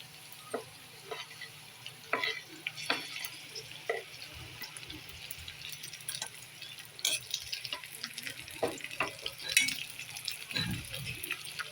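Onion goes into a pan over ginger, garlic and chillies and begins to fry, giving a faint hiss with scattered spatula clicks and scrapes, quiet and close, with no voices.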